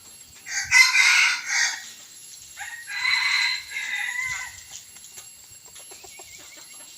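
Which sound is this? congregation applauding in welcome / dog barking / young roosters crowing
young roosters crowing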